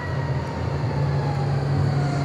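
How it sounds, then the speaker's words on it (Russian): A tram heading to the airport rumbles along with a steady low drone and faint tonal whine, continuous and moderately loud with no talking. "Мой трамвай"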